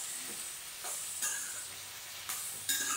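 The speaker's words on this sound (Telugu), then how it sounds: "కాయలు అలాగే వేసాను. వేసేసరికి ఏమైపోయింది, డామ్ అని పగిలిపోతున్నాయి అసలు" Whole uncut green chillies frying in hot oil: a constant hissing sizzle punctuated by about four sudden louder bursts as the pods split and pop, fairly close, with no one speaking.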